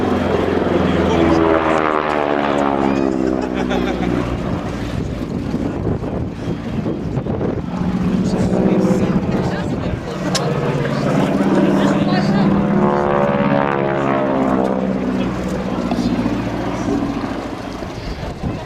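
A North American T6 propeller aircraft drones loudly past at an air show, its engine pitch sweeping as it approaches and recedes, with wind buffeting and a voice talking over it.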